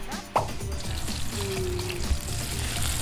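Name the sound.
sautéing spices: tomato, green chili, shallot, garlic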